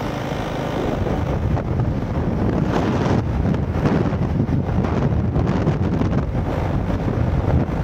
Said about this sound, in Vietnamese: Gió thổi lên mát quá.